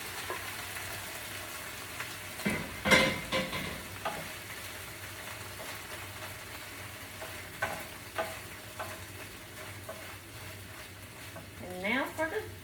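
Cooked pasta dumped over a block of cream cheese and stirred, giving soft scraping and clattering stir bursts at close range with a faint sizzle underneath, heaviest near the start and again at the end.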